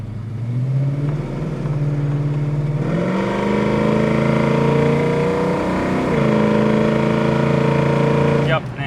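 A 1972 Chevrolet Chevelle SS with a big-block engine drives and accelerates. It roars loud and close, its pitch climbing through gear changes, while someone talks over it.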